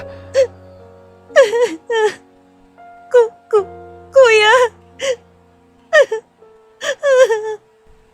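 A young sibling wailing and sobbing over a phone line, heard in repeated short gasping, whimpering bursts with pauses between them, close and fairly loud, along with a shouted word.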